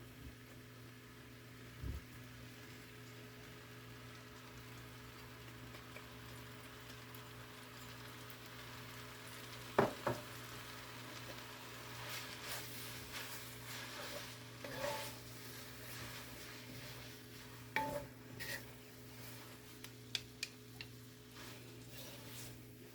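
Sauce poured into a pan of paleo lo mein noodles, giving a soft, steady sizzle at moderate distance with occasional utensil clicks and stirring scrapes scattered through, quiet overall and free of voices.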